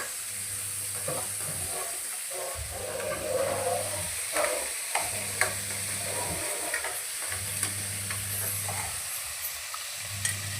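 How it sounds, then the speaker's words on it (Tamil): Onion and tomato sauté in a pan for a chicken dish, a steady sizzle and frying hiss running throughout with occasional stirring scrapes and clinks, close and moderately loud under a constant low electrical hum. "வெங்காயம் தக்காளி வதங்கிருச்சு."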